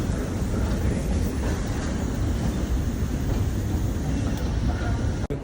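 A train runs steadily in London, its broadband rumble and rail rattle loud and continuous throughout with no break.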